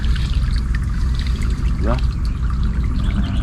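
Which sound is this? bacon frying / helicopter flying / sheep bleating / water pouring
water pouring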